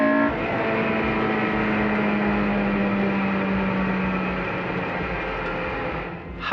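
A Honda car engine revs hard in third gear, climbing past 6100 RPM as the VTEC engages, heard as a loud sustained roar that rises in pitch and then drops off at the end, with no talking.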